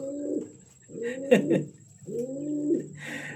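A pigeon coos in repeated low, rolling phrases, three clear bouts close by, with a faint rustle at the end.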